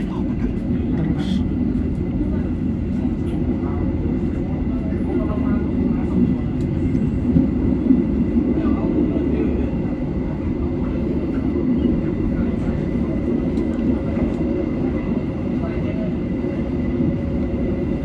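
KA Commuter Line Supas train pulling away from Tanggulangin station, a steady low rumble and rolling drone heard from inside the carriage with faint clicks and rattles throughout.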